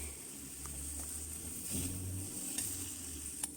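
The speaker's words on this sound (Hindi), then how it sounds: "तो इसको मैं ऊपर नीचे ज़रा चलाऊंगी।" Mixed vegetable sabzi sizzling in a pan as it is stirred, a faint, soft sizzle with low rumbling and a few light scraping touches.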